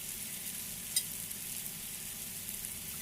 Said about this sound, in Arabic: شويه كده يشكشك كده على النار علشان يستوي والبصله تدبل خالص